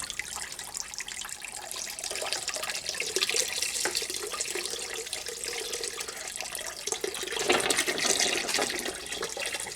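Water rushes steadily through the heat exchanger of a tankless water heater during a flush, a continuous close hiss like a running tap with a brief surge near the end.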